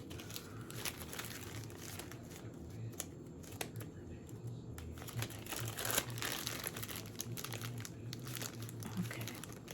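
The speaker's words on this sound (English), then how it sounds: "So I cut my bags in half." Tea bag pouches being cut in half with scissors, close crinkling and snipping of thin packet material in irregular bursts over a faint low hum, without speech.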